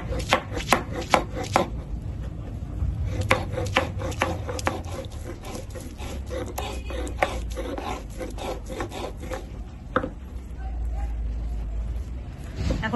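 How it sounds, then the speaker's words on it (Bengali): Ginger and green chillies are ground into a paste for a cabbage dish, giving a steady run of rhythmic rubbing and pounding strokes that are loud and close. A faint voice can be heard now and then underneath. "নিয়েছি 1 ইঞ্চির মতো আদা আর 2টো কাঁচা লঙ্কা। এখন বেটে নেব"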